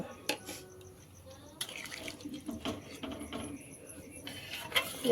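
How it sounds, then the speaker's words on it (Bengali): Water poured into a pot of vegetarian potato curry (aloo dum) being cooked: a running, splashing stream with faint clinks of the pot, alongside low conversation in the room. "আর বাকিটাই জলেই সেদ্ধ হবে সেইটুকুই জল দেওয়া হচ্ছে"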